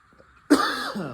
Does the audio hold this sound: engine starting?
no